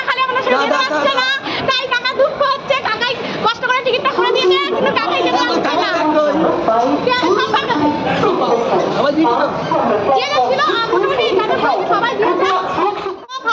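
A dense crowd packs the gate in front of an Aastha special train at a railway station, a loud, continuous babble of many overlapping voices with occasional laughter, close and unbroken throughout.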